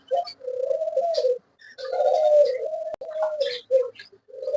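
Australian bald-headed doves in biscuit colour cooing close by in repeated low, throaty phrases with short pauses between them, a few faint chirps from other birds mixed in, at a bird farm.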